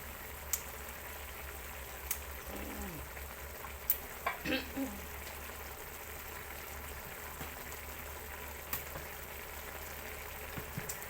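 Beef with vegetables, including eggplant and pea eggplant, stir-fries quietly in a pan, a faint steady sizzle broken by a few scattered clinks and scrapes of stirring.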